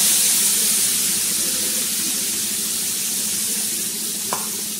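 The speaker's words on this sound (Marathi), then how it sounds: "आपण वाटलेला काळा मसाला टाकणार आहोत" Ground black masala going into chicken curry frying in a pan, giving a steady, close sizzle with light stirring throughout and one brief clink near the end.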